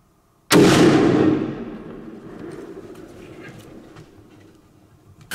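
A single loud rifle shot during a night wild boar hunt, a sharp close crack that rolls into a long echoing rumble fading slowly over several seconds.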